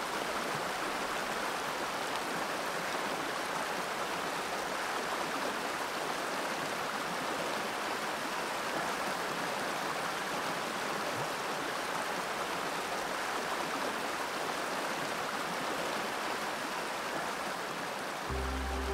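A stream flows out of a lake in Sarek National Park, a wide, weak-current outflow. Its steady rushing water hiss stays constant and moderately loud the whole time, with no voices or other sounds.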